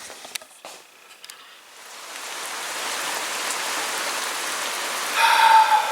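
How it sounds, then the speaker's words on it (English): Heavy rain pours steadily outside a workshop, a continuous hiss that builds and stays loud. A few clicks and knocks are heard at the start. "It's pouring with rain."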